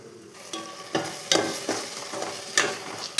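Vegetables frying in a pan for vegetable rice, a close continuous sizzle broken by several sharp stirring scrapes.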